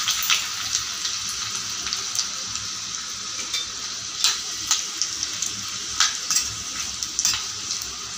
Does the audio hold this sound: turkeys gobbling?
no